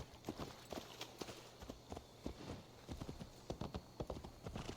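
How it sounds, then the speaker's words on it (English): Horse hooves clip-clop at a steady walking pace in Assassin's Creed, a close, faint, uneven patter of hoofbeats with no one speaking. "Where do horses get off to?"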